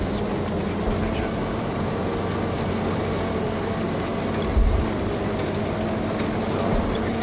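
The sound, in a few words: small vehicle engine running, from a video game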